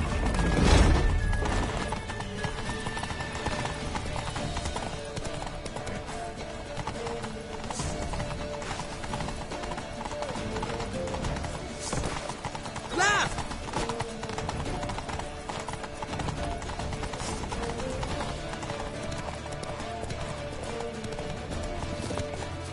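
Hooves clip-clop in a steady, rapid gallop in The Witcher III: Wild Hunt as a horse runs toward a temple on Temple Isle, with occasional whinnies and a heavy thud early on.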